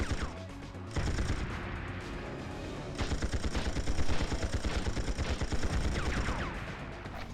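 Sustained rapid gunfire in the Tomorrow Never Dies video game as a player shoots at ammo crates, with dense, loud, close bursts that build and continue with little pause.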